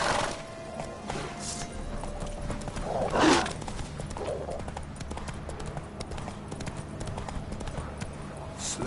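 A horse gallops with rapid clip-clop hooves and gives a loud whinny partway through in a video game, while someone speaks over it.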